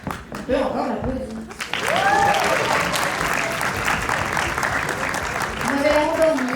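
Applause from the audience at a cosplay contest at a cartoon fair, a dense, sustained wash of clapping that fills the room, with a voice talking over it on a microphone.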